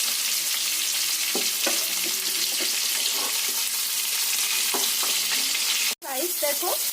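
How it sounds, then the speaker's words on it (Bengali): Fish fries in mustard oil in a pan, a loud, continuous close-up sizzle with scraping from a spatula and a brief drop-out just before the end. "আমি মাছটা ভাজতে দিয়ে দিয়েছি।"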